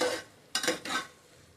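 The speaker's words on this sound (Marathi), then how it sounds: "वाटण घातल्यावर पण छान परतून घ्यायचंय" Ground masala paste for masoor pulao being sautéed in a pan, with a low, soft sizzle and a couple of brief stirring scrapes in the middle, close by and without talk.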